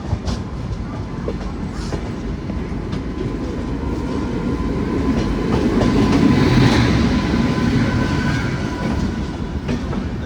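A passenger train rolls into Visakhapatnam station, its steady rumble and rhythmic wheel clatter loud and close throughout, swelling slightly midway.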